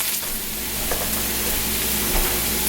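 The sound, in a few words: onions caramelizing in a pan with salt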